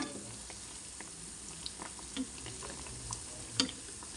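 Badusha pastries fry in hot oil at home, giving a soft, steady sizzle and faint bubbling with occasional small pops and clicks, all at low volume.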